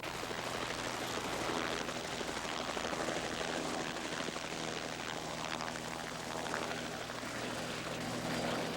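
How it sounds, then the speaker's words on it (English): A steady, loud helicopter rotor and engine drone fills the whole stretch in flight over Newfoundland, constant and unbroken, heard from inside or close by. "Helicopters are absolutely essential for such work."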